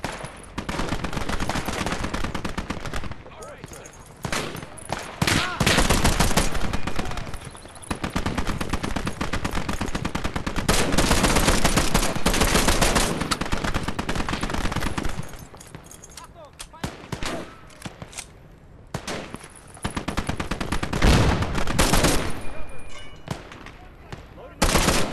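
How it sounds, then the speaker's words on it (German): Enemy machine gun fire in the World War II video game Call to Arms - Gates of Hell on the Eastern Front: long, loud rattling bursts with brief gaps, heavy gunfire and booms layered together, close and continuous. "Feindliches MG!"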